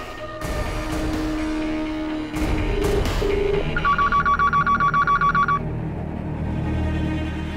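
A telephone rings while a call to a home goes through, a rapid pulsing ring lasting a couple of seconds after a few clicks and tones.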